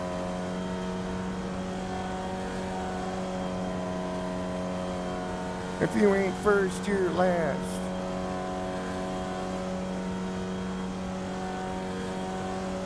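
A Formula race car in the iRacing game drones with a steady, high-pitched engine note held at speed throughout. A voice speaks briefly midway through.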